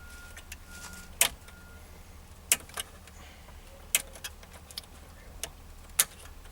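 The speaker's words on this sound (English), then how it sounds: "Once we've released the clip, the lever slides upwards to release the main power block." Sharp plastic clicks ring out at a few-second intervals as the stereo harness clip and lever are released behind a Honda Jazz radio, each snap crisp and close over a quiet background.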